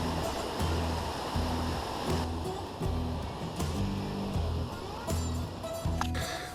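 Water rushes steadily in a river during a crossing on a wilderness moose hunt in Alaska, a continuous loud wash with some low irregular thumps, no talk over it.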